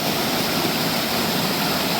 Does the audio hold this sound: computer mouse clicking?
no